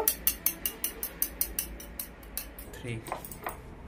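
Eggs beaten briskly with a pinch of salt, a fork or whisk clicking rapidly against a bowl in a steady rhythm for about two seconds, then slowing into softer, scattered taps with faint background noise.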